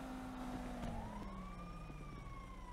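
A wailing siren rises and falls at a distance, its pitch sweeping slowly over a low rumbling background, with no voices.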